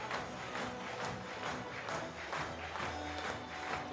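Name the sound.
stadium crowd of fans applauding the two teams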